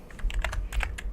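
Rapid keystrokes on a computer keyboard during a live trading session, a quick burst of several clicky taps close up with steady low background hum.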